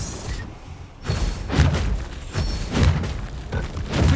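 A Bombarda blasting spell detonates in Hogwarts Legacy, a series of heavy booming thuds and crashes landing in quick succession, loud and close, with no talk over it.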